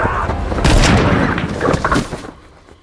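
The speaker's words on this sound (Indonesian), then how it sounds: "Alice berhasil melumpuhkan makhluk itu dengan satu tembakan." A single gunshot in a film goes off as a loud boom with a heavy low thud and crackling debris, then fades into a rumbling tail.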